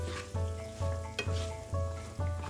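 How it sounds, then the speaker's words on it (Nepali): Peas and potatoes frying in a pan for Nepali Gorkha achar, a steady sizzle broken by regular stirring scrapes roughly every half second, close and clear with no talking. "सात 8 मिनट जति यसलाई भुट्दै पकाएँ मैले"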